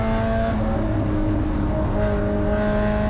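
Spec Miata race car engine at high revs during a race, heard loud and close from onboard as a steady droning whine holding pitch through a corner.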